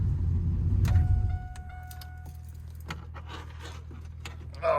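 A Cummins diesel engine fitted in a Trans Am rumbles loudly, then cuts out after about a second. Clicks, jingles and faint scraping follow in the quiet, and a brief burst of noise comes at the end.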